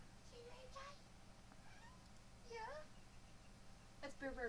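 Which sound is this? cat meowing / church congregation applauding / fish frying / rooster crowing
cat meowing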